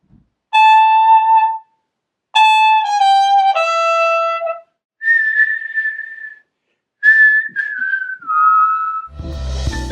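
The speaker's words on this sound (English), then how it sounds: "flute sounds really nice over groove music" Solo flute phrases with clear sustained notes and short gaps between them, followed by sliding, bending tones. A faint low backing sound only begins right at the end.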